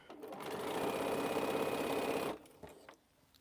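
A sewing machine stitches quilt pieces together in a steady, loud whirring run lasting about two seconds, then stops abruptly, leaving a few soft handling noises.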